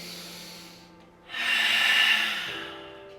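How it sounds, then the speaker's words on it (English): A long, deep breath in a yoga flow, close to the microphone: a soft exhale that fades, then a full, airy inhale that swells and tails off, over faint background music. "Really focusing on those full breaths here"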